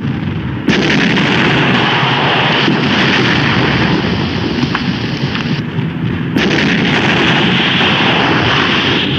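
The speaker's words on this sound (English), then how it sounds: "Fire 2 rounds of HE in there." Film artillery fires high-explosive rounds at a tree, heard as a loud, dense roar of gunfire and blasts. Sharp onsets mark the shots against continuous heavy rumble, with no voices.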